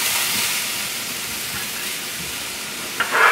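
Onions sizzling in a hot pan, a steady bright hiss close by that swells briefly near the end, with no talking.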